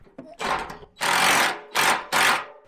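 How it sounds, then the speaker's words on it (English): A power tool whirs in four bursts while tightening loose bolts under the hood of a car, each burst a loud buzzing run, the longer ones near half a second, separated by short gaps. "Yeah, I just tightened it up."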